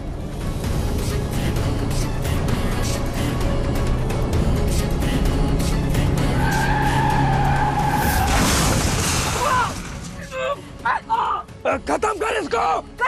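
A car is driven hard in a tense drama scene, engine roaring under a loud sustained tire skid that rises then breaks off, followed by scattered bangs and shouting voices.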